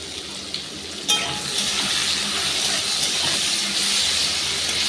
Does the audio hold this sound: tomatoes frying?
yes